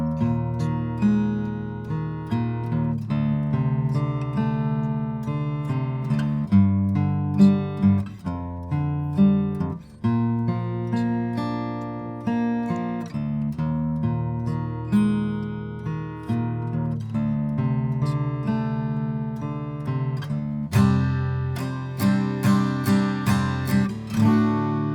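Chords are strummed on an acoustic guitar in a steady rhythm, playing the first chorus of a song, with changing chord shapes and a faster run of strums toward the end.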